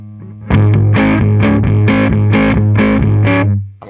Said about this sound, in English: it's just pushing the front end of that valve amplifier into distortion